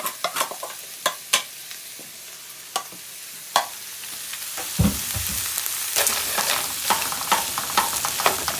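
Frozen corn, carrots, green beans and peas tipped into a hot pan with meat: sharp clicks and taps of utensils at first, then a sudden loud burst of sizzling that continues steadily with scraping, no voices.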